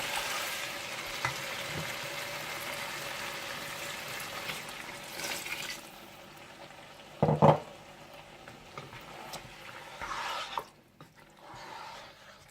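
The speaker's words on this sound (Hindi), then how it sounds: "और जब मटन अच्छा सा भुन जाए" Mutton for kabsa fries in a pot with a soft, steady sizzle, broken by a few brief clinks and stirring scrapes, with no voices.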